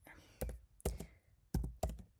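Four crisp, close clacks from a computer keyboard while Python code is typed, spaced unevenly in a quiet room with no talk over them.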